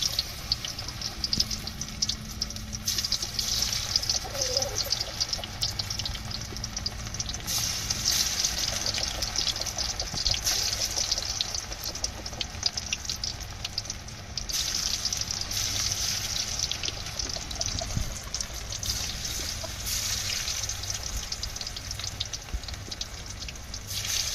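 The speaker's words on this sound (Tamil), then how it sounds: "இப்போ பொறிச்சு எடுத்துக்கிறோம் காலிஃப்ளவரை" Cauliflower pieces deep-fry in hot oil, a continuous close crackling hiss with fine sputtering bubbles that holds at an even level throughout, with no voices.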